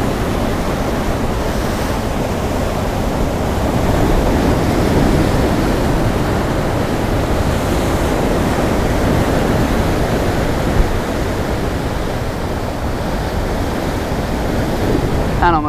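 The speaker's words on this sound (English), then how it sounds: "Oh wow, that is a big wave." A big ocean wave breaks on a rocky shore, a broad steady roar of surf and whitewater swelling slightly midway, with wind buffeting the microphone throughout.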